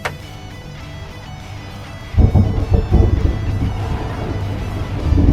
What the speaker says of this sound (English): Sounds like a thunderstorm coming.